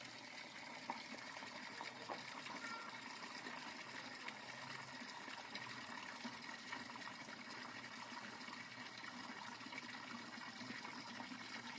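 Muddy water runs from a filtered household tap in a steady, continuous, faint rushing hiss that never breaks or changes.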